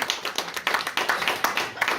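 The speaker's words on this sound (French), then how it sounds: "Oui, on peut applaudir." A small audience at a literary conference claps briefly for authors, a light, uneven patter of separate hand claps in a short burst with no voices.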